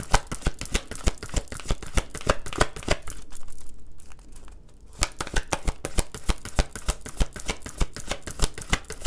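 Tarot cards are shuffled close up in rapid riffling bursts, a brief quiet gap midway before the crisp flicking resumes.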